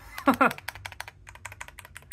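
Keys clack in a quick, uneven run on a 60% mechanical keyboard with magnetic switches, close by, after a brief spoken word at the start.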